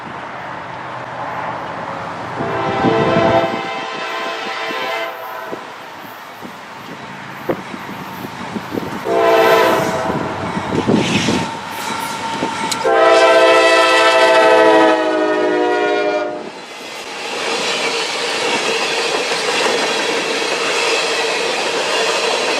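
A train rolls through the Cook Road railroad crossing off Indianola Avenue in Columbus, blowing several long, loud horn blasts over the steady rumble and rattle of its cars.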